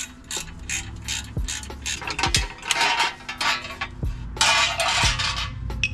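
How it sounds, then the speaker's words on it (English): Ratchet wrench clicking in quick bursts during oil pan work on a Lexus IS300, close and loud, with metallic clunks of tools and parts in between and no talking. "That's what you call a wrench right there"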